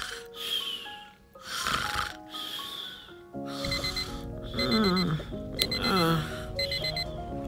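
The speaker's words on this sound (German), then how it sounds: "Oh, der Wecker läutet." Alarm clock ringing in a Toca Boca video game: a repeated electronic beeping alarm in bursts with pauses, followed by a busier stretch where the ringing continues over playful game music and sound effects.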